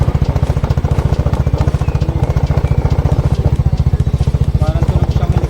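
A scooter with a faulty gearbox, leaking gear oil and a shaky rear wheel runs up close with a loud, fast, regular chopping rattle like a helicopter, steady throughout.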